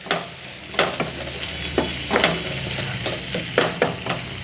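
Vegetable pieces for a rice dish are stirred in a pan with salt and turmeric, giving repeated scraping strokes of a spoon over a low, steady sizzle.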